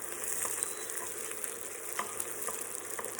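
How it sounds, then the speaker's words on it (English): Butter being stirred into hot golden homemade caramel in a pan off the heat, a steady soft sizzle with faint scraping stirs, close and alone with no talking. "I'm going to add some butter and stir it through."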